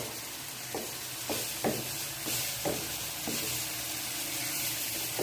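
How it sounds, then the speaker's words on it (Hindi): Chili, garlic and ginger paste stirred into chicken masala with potatoes in a home kitchen, a steady sizzle broken by several soft scraping knocks of the spoon against the pot, close and moderately loud, with no voices. "अब इसको हमने इसमें हिलाना है"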